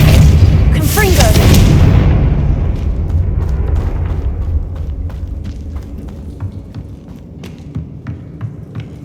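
A Confringo fire spell explodes in the Hogwarts Legacy video game on Xbox Series S. A loud roaring burst with a deep rumble slowly dies away into scattered crackles and a low hum, with a voice heard during the blast.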